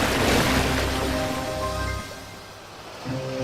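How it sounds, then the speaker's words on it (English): Water surges and rumbles around a small engine deep inside a mine, a loud rushing wash with tonal hum over it that eases midway and swells again. "the water roared around him"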